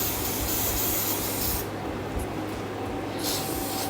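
Sealer sprays in a steady hissing stream onto a rug design, close and fairly loud, with a brief dip in the hiss partway through before it resumes.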